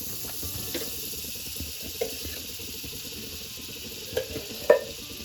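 Butter sizzles in a pan for sautéing vegetables for a cheesy pasta, a steady hiss close by with a few light clicks and knocks of utensils.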